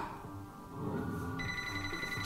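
A telephone rings in the Divine Intervention video game with a bright, trilling bell tone that starts partway through over a low, busy game backdrop.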